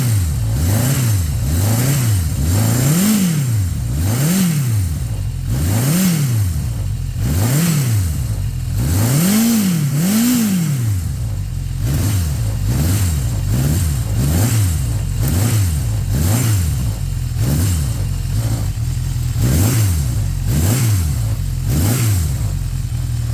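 A 1982 Yamaha XJ1100 motorcycle engine, heard up close, is blipped repeatedly. Each short rev rises and falls in a rhythmic series over a steady idle, loud and with no talking.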